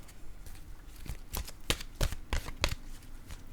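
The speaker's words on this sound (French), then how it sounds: "je vais piger une autre carte de mon oracle de l'âme intuitive" Oracle cards being shuffled by hand, a few distinct riffling snaps in close succession over a soft rustle, quiet and near, with no speech.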